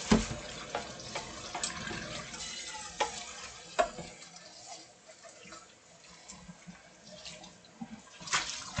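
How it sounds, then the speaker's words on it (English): A pot is washed in a home kitchen: water splashes and runs while the pot clatters and scrapes in a sink, with scattered knocks and a steady wet wash throughout. "wash the pot."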